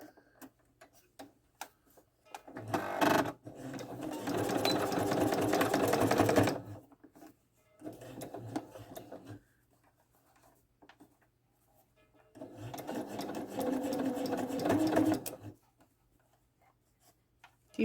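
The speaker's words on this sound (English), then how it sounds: "my machine is set to a straight stitch default setting" An electronic sewing machine runs a straight stitch through fabric in three separate bursts of rapid, even stitching, close and clear, with quiet pauses between them.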